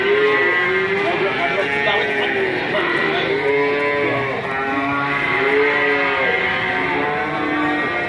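Cattle moo repeatedly and loudly at close range, the lowing calls overlapping in a steady chorus among large beef cattle kept for sale on a farm.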